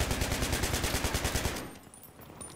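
A Pecheneg machine gun fires a rapid, loud burst in Battlefield 3, steady rhythmic shots for about a second and a half before cutting off into quiet.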